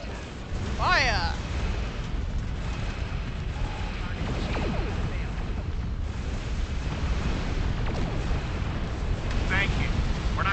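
Starship weapons and explosions in the Star Trek Online game against Nausicaan pirates: a sustained roaring barrage with sweeping zaps and bursts layered over it, loud and continuous, with a voice calling out over the din.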